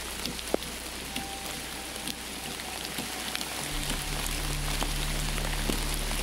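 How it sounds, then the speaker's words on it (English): Heavy rain pours down on a trail in the Appalachian foothills of Kentucky in a dense, constant hiss with scattered drop impacts, joined partway through by a low steady hum. "It was raining like crazy"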